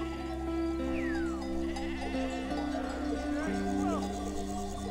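Sheep and goats bleat repeatedly as shepherds drive a livestock herd from the lowland plains toward mountain pastures, the calls loud and overlapping above a steady drone of music.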